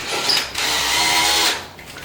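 A power drill whines steadily at close range for about two seconds, boring slowly through bathroom tile, its pitch shifting slightly as it grinds.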